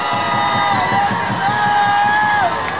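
A crowd at a political street rally in Yeouido, Seoul, cheers and applauds in a sustained roar beneath a loud amplified voice that carries over the noise.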